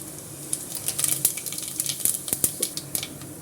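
Rapid crackling and sputtering of fennel seeds frying in hot oil, with sharp pops scattered throughout, close and steady, no voices.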